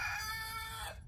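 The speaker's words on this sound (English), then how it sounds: "That's my neighbor's rooster." A neighbour's rooster crows in one long, sustained call of about a second that fades out at the end, heard alone with no talk over it.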